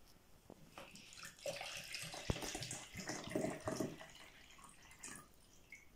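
Water poured from a container into a jug during a classroom capacity demonstration, a close splashing, gurgling stream with a few distinct plops and drips, steady for several seconds with no talking.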